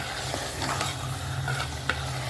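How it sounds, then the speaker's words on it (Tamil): Mutton gravy in a pot being stirred after salt and spices go in, a steady close sizzle under repeated scraping strokes of a spoon and a sharp metallic tap near the end, with no talking. "நல்லா மாதிரி கிளறி விட்டுக்கோங்க"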